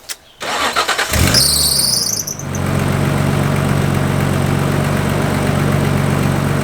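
A Nissan Stagea engine cranks with a brief starter squeal, catches, and settles into a steady, loud idle that continues without a break.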